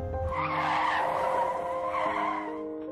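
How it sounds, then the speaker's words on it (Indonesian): A car speeding past from the opposite direction, a loud close tire squeal and engine roar that hold steady across the whole moment and then ease slightly, with no talking. "tiba-tiba sebuah mobil dari arah berlawanan melintas dengan sangat kencang"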